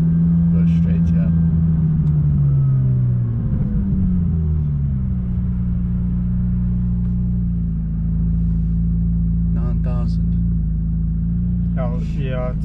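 A McLaren 570S sports car engine accelerating at speed, a loud low droning rumble that drops in pitch around a gear change and then holds steady, heard from inside the car with people talking over it.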